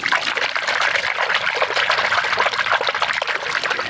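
Water is swirled and sloshed with a little dish soap inside a yellowjacket trap, making a steady, close trickling and splashing sound that runs continuously without pause.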